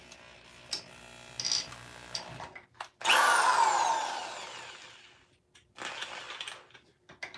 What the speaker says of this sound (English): Lightly drilling.